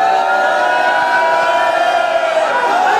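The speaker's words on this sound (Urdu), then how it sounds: "اتنے نعرے لگائیں کہ ان کی آواز بیٹھ جائے" A large crowd roars and chants slogans in celebration, loud and sustained, at a religious festival marking the birth of Imam Ali on 13 Rajab.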